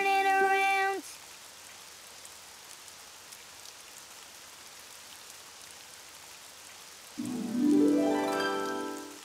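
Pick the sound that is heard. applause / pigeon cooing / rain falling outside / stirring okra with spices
rain falling outside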